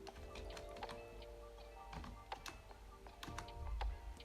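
Quiet typing on a computer keyboard while writing HTML table code, with irregular light key clicks in short bursts, faint and close, and no talking.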